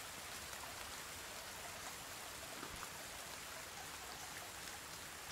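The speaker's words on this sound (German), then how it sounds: "Es regnet ja immer noch" Steady, dense rain hisses without a break in the survival game The Forest, a constant wash of drops falling on surfaces, faint and even with no voices.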